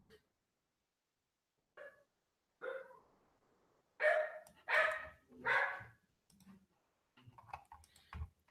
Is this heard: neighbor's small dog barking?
yes